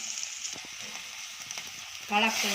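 Black-eyed beans (alasande) tipped into a hot pan sizzle steadily and close by, with a brief rise in intensity near the end.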